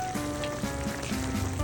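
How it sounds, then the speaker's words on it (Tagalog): Pork and milkfish paksiw boiling in a covered pot, a steady close sizzling and bubbling with faint clicks, no voices. "At dahil kumukulo na mga kasolid,"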